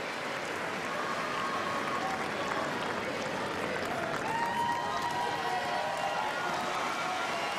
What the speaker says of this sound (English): There's a standing ovation for Federer.